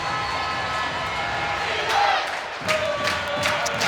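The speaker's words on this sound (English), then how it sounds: "The fans are absolutely going crazy" An ice hockey crowd roaring after a home goal late in a Sheffield Steelers v Guildford Flames game, a loud continuous wash of cheering with swells and whoops throughout.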